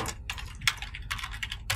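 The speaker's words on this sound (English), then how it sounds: "To run it, all we do is type Python." Typing a command on a computer keyboard, a short close burst of distinct key clicks in quick uneven rhythm with small gaps between presses, nobody talking.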